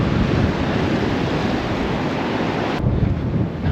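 Water pours steadily over a small weir on the River Trent while the river runs high, a dense, continuous rushing wash heard close by, with buffeting wind noise over the microphone.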